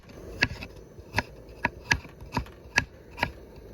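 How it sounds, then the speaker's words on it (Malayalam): Close, sharp knife strikes chop ginger on a cutting board, about eight distinct hits at an irregular pace with no talking. "നമുക്ക് ആദ്യം നമുക്ക് ഇഞ്ചി അരിഞ്ഞു കൊടുക്കാം"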